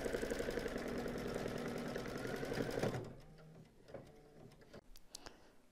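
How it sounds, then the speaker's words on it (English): An embroidery machine stitches a back stitch to secure applique fabric on an in-the-hoop dog softie, a loud, steady rapid mechanical chatter that stops abruptly partway, leaving faint clicks and small handling taps. "it's just going, doing a back stitch there like I do all of my appliques to really secure that applique fabric down"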